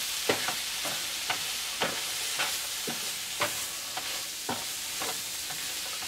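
Brussels sprouts and garlic cook in a pan with a soft, even sizzle, punctuated by regular light stirring scrapes every half second or so, nearby and alone without speech.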